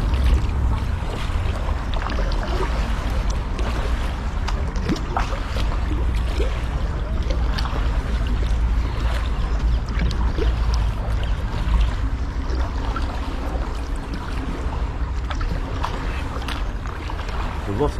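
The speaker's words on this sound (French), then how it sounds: "Donc là on arrive au port de plaisance de Nogent-sur-Marne." Continuous paddle splashes and water rushing past a kayak as it glides into the Nogent-sur-Marne marina on the Marne river, steady and close throughout with light wind noise.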